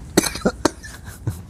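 Several short coughs in quick succession from one person nearby, in a quiet indoor room.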